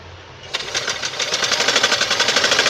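A sewing machine starts up and runs steadily, stitching a belt blouse seam with a fast, even mechanical chatter that grows slightly louder and stays close, with no talking over it.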